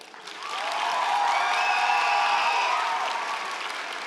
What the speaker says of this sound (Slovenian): dajmo en testen aplavz